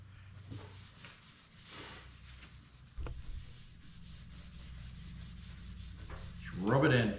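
Finish being rubbed by hand into a wooden pizza peel, a steady soft scuffing and wiping that runs throughout at close range, with a brief knock midway and a louder burst near the end.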